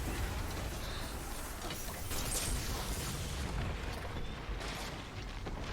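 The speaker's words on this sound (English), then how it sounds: "kill it with 2 shots of Leviathan's Breath" Leviathan's Breath bow fire in Destiny 2 during a Legend Lost Sector run in Bay of Drowned Wishes, a dense, loud wash of heavy booming impacts and rumbling blasts filling the whole stretch without pause.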